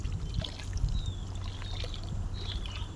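Water running from a freshly started borewell on a farm field, a steady soft gushing trickle close by over a low rumbling pump hum, with no talking.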